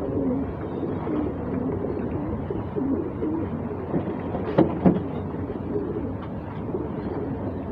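Low, continuous cooing from a group of pigeons fills the space, with a couple of brief louder flutters or calls near the middle.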